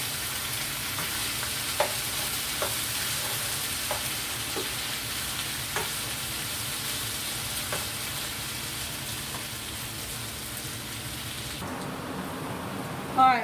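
Potatoes and green beans sizzle and fry steadily in a pan on a home stove. The hiss is continuous and close, with occasional light taps from stirring. It cuts off near the end.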